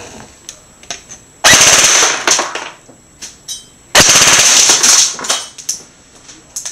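ICS MP5 SD6 airsoft electric gun with an M120 spring, helical gears, Classic Army motor and 9.6 volt mini battery firing full auto, two loud rapid bursts of about two seconds each, near and sharp, with quieter clicks between.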